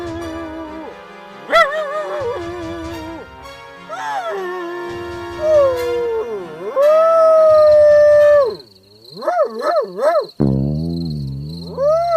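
A man imitates a dog howling with his voice, drawn-out rising and falling wails and yelps repeated over about twelve seconds, loud and close, sliding through long wavering tones.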